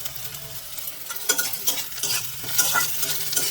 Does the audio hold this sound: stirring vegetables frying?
yes